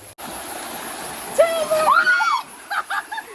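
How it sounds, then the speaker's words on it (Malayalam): A small stream runs with a steady, soft rushing wash in the background, while a person talks over it midway. "തോട് ഇതാണ് പൂരാടിന്റെ മഹിമയുള്ള തോട്"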